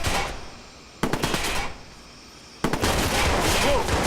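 Loud, close bursts of automatic gunfire in the Watch Dogs video game, two long sustained volleys separated by a brief lull.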